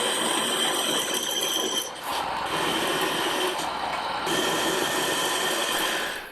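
A parting blade on a metal lathe cuts a finished piece away from the stock held in the chuck jaws, producing a loud, continuous grinding screech with a brief dip partway through.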